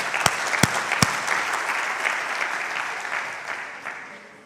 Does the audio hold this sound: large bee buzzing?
no